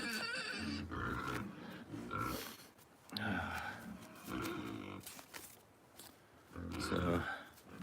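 Hungry farm pigs grunt and snort at feeding time in bursts of rough, close grunting, with a person talking at times over the herd.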